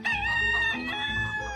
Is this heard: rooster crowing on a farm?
yes